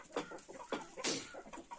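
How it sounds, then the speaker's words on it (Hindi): Kadaknath chickens cluck in short repeated bursts, fairly quiet and close, with a slightly sharper squawk in the middle. "देखो कड़कनाथ मुर्गे"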